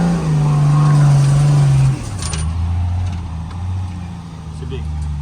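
A Nissan Patrol engine drones loud and steady while the vehicle accelerates uphill off-road, its tone shifting partway through, with people talking over it.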